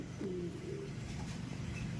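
A pigeon gives a soft, low coo as it comes in to land, fairly close against a quiet outdoor background, one brief drawn-out call.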